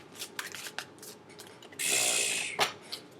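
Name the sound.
shuffling tarot cards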